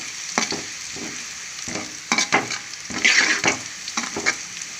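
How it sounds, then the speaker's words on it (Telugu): Cashews frying with mutton keema and onions in a pan, a steady sizzle broken by repeated sharp scrapes and clatters of stirring, close and fairly loud, with no voices. "ఇందులో కొంచెం జీడిపప్పు వేసుకుందాం కైమా జీడిపప్పు ఫ్రై బాగుంటుందండి"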